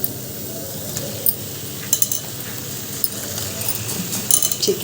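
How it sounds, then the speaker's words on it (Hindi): Chicken frying in a pan with onions and tomatoes for chicken masala makes a low sizzle, broken by sharp metallic clinks and scrapes of a spoon against the pan, with no voices. "तो बस अब इसमें डाल देंगे अपना चिकन"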